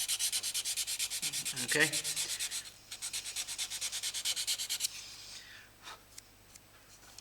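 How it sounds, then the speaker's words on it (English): Rhythmic back-and-forth sanding on the edge of a thin wood veneer ring, with quick, even rasping strokes close by that slow and turn sparse toward the end, and one brief spoken word. "I'm going to just sand down one edge."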